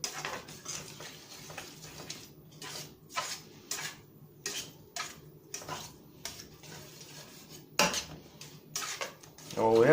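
A spoon scrapes and stirs a roux with milk in a pot, producing repeated metallic clinks and scrapes in an uneven rhythm, fairly quiet and close, with a brief louder clatter near the end.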